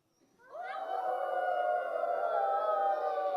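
A person imitates a distant wolf howl with a single long, sustained howling tone that rises in and holds steady, heard alone.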